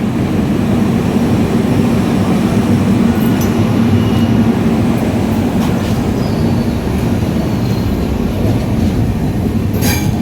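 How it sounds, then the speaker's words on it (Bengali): Express train 12863 from Howrah to Katpadi runs at speed, heard from inside a 3AC coach as a loud, continuous rumble of wheels and carriage noise with occasional faint squeals and clatter. "রাজামন্ডি স্টেশন ছেড়ে দিয়ে আমরা এখন গন্তব্যের দিকে এগিয়ে চলেছি আমাদের ট্রেনটা এগিয়ে যাচ্ছে"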